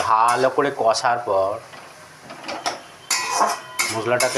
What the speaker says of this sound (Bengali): এইভাবে মশলাটাকে কষিয়ে নেব।